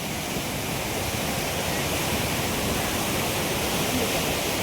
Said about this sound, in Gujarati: અને આ છે નદીનો પ્રવાહ.